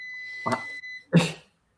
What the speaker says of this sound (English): What keeps beeping? Something keeps beeping. Oh, I think that's my dishwasher.